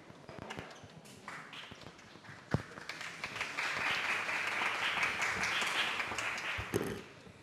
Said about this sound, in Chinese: 我希望剛才的掌聲呢是給你們各位